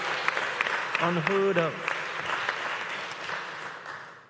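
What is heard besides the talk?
audience applause at a meeting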